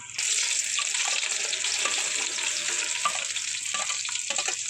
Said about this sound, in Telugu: ముందుగా ఇలా కట్ చేసుకున్న ఉల్లిపాయల్ని కాగుతున్న డబ్రాలో వేసుకోవాలి